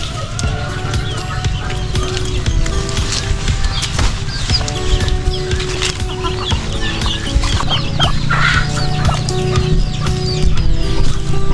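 Chickens cluck steadily on a small farm, several birds close by with overlapping clucks and calls over a continuous busy background, with other poultry such as ducks and turkeys kept nearby.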